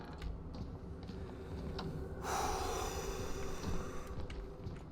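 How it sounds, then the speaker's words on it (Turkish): A door creaks open slowly in the horror game Outlast, a drawn-out mechanical groan that swells midway, heard alone with no talk. "aç kapıyı"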